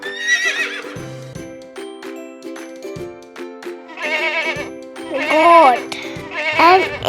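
A horse neighs loudly and close by, several shrill, wavering whinnies with a short gap between them, heard over soft background music.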